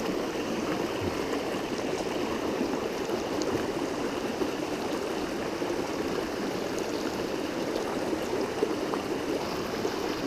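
A mountain stream along the Kancamagus Highway near Sabbaday Falls, flowing water rushing and burbling steadily at close range, constant and unbroken with no voices.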